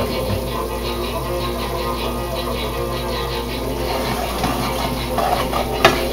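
A flour and fat roux is stirred steadily in a pan, a low sizzle with soft repeated scraping of the spoon over a constant background hum, no talk, ending in a small clink.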